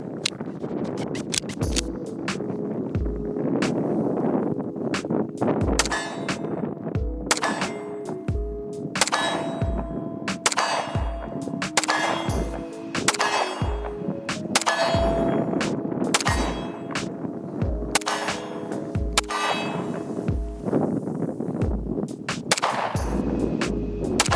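Staccato C2 9mm 2011 double-stack pistol fired downrange at steel targets: a long string of sharp, evenly paced shots, each followed by a ringing metallic clang from the struck plates, with no talking.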